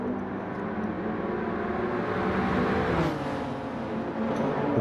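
Race cars in Gran Turismo 7 roar continuously at close range during a Le Mans-style race, engines droning steadily with a brief pitch sweep near the middle as one car passes.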